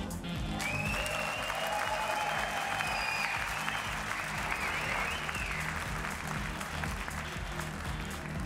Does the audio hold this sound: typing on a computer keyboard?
no